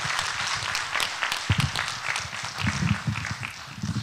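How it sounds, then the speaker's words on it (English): An audience at a community outreach presentation on the Clear Lake hitch claps for a presenter: a full, busy round of applause with some heavier, closer claps mixed in. "Let's give a big round of applause to Fred."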